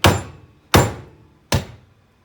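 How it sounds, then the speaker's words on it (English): Three heavy, ringing strikes land about three-quarters of a second apart, each blow fading out before the next, as a metal post is hammered down while installing an evap canister relocation kit on a 4x4. "I'm either gonna hammer it down more"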